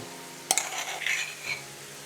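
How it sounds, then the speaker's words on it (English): Crushed garlic and ginger dropped into a pan of onions over high flame, giving a sharp clatter followed by hissing sizzle that swells and fades. "I will let this fry along with the onions"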